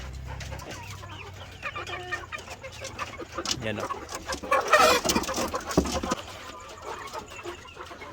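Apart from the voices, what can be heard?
chickens clucking: game fowl, asil, Rhode Island Red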